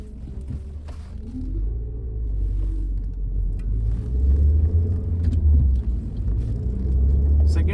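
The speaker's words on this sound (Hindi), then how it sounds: "अभी मैंने 3000 आरपीएम तक खींचा है इसको।" A 2009 Honda Civic 1.8 engine pulls in second gear up to about 3000 rpm, a steady low rumble that rises gradually in pitch and loudness while someone talks over it inside the cabin.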